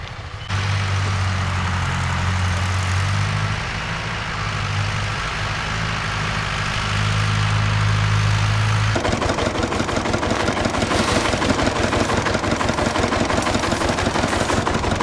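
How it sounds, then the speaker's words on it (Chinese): A large tractor ploughing a wheat field: a loud, close engine drone that shifts partway through into a rapid, heavy, throbbing chug, with no voices. "现在那种大拖拉机，你看整犁的"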